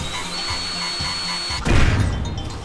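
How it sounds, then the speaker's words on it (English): In the video game Corn Kidz 64, a steady mechanical hum plays before a loud burst of drilling into a wall takes over, grinding close and harsh for the rest of the moment. "I rotated it like this so I could drill into the wall"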